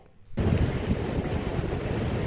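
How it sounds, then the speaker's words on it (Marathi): After a brief quiet moment, rough, swollen monsoon sea waves roar in along a coastline, a loud, continuous churning surf mixed with gusty wind noise. "समुद्राला उधाण प्राप्त झालेलं आहे"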